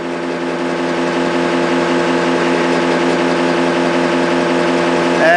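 A homemade three-coil magnet motor with holed magnets spins steadily at about 350 RPM, giving a loud, constant close-up buzzing hum with layered harmonic whine and no speech.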